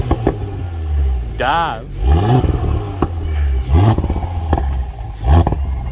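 A B9 Audi S5 with a CTS high-flow cat and its exhaust valves open revs in sharp rising bursts, close and loud, while people talk between the revs.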